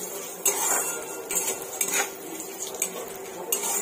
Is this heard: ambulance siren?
no